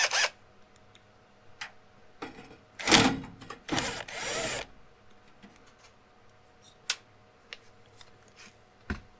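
A screwdriver is worked inside a Windows 10 desktop computer during a video card swap. It produces close scraping, ratcheting bursts and a few sharp clicks and taps, with quiet gaps between.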